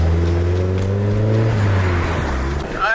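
A modified Nissan 300ZX drives with a loud, steady engine drone and road roar. A tire rubs against the bodywork and smokes, adding rough scraping noise close by.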